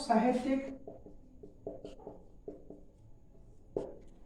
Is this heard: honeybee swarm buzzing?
no